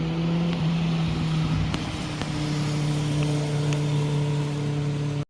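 Cars climbing a mountain road, a steady engine drone with sustained low tones heard from a distance, continuous for several seconds before cutting off abruptly.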